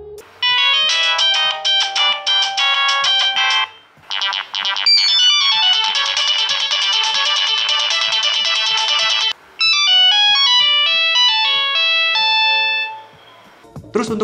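A MIDI ringtone plays from a Nokia CDMA phone, a bright synthetic melody in several loud, steady phrases separated by short pauses, with no other sound around it.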